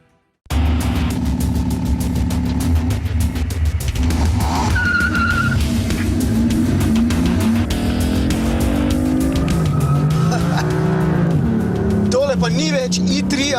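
2014 BMW M4 engine roaring loud and close as it accelerates, with squealing tires and skidding, gear shifts changing the pitch, while someone talks over it.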